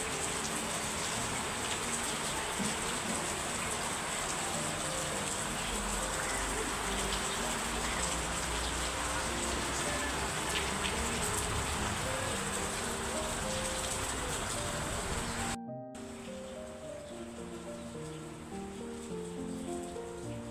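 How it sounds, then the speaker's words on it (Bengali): Heavy rain pours steadily during a stormy morning in Bangladesh, a dense unbroken hiss of drops on surfaces that stays loud and close throughout, easing slightly after a brief cut near the end. "এত বৃষ্টি হয়েছে এই যে আবারও আবারও নামতেছে বৃষ্টি আবার বাড়তেছে গো"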